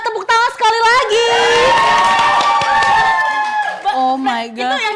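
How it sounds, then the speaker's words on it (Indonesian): An audience at a study-abroad talk show cheers and applauds with whoops and shouts, lively and close, mixed in with voices speaking. "tepuk tangan sekali lagi"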